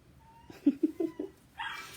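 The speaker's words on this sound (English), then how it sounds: "sometimes his bark can be a little scary if you haven't heard it before" A dog gives a short run of about four barks or yips at moderate distance, followed by a brief whine-like sound, with faint background noise and a steady tone running underneath.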